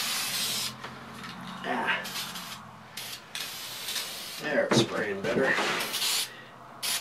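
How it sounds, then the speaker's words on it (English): Spray paint hisses from an aerosol can onto a freehand-carved wooden sign in short bursts, close and moderately loud, while someone talks over and between the sprays. "If you get a can, by the way, guys, that uh, doesn't seem to be spraying when it comes down close to the end of the can"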